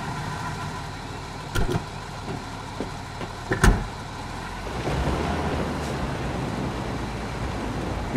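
A car engine running while driving in Ghost Recon Wildlands, a steady low rumble of a vehicle on the move with a few sharp knocks and bumps, and the engine noise swelling slightly toward the end.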